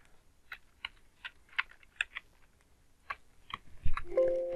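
Typing on a computer keyboard, a sparse run of crisp individual key clicks in irregular rhythm, close and fairly quiet, ending with a louder thump and short tonal blip.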